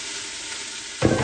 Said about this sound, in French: on fait bien revenir les légumes